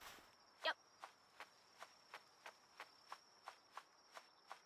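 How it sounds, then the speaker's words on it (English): Cricket chirps in the Palworld video game, a faint, evenly spaced series of about a dozen short chirps ticking at a steady rhythm over a quiet background, with one slightly louder chirp near the start. "I hear the crickets."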